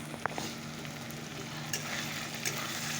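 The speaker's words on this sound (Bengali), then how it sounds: "মশলাটাকে কষিয়ে নিচ্ছি" Chicken being sautéed with spice paste in a pan, a soft continuous sizzle with a few light scrapes and taps of a spoon, fairly quiet and steady.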